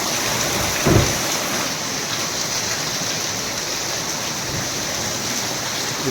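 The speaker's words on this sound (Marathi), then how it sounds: "आठ दिवस झाले डेली पाऊस चालू आहे डेली" Heavy monsoon rain pours in a loud, constant roar of water on surfaces, with a brief low thump near the start and no speech.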